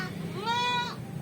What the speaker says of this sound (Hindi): ये जनाब हमारी बड़ी बकरी